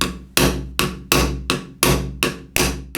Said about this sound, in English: now it's time to hammer the Starnut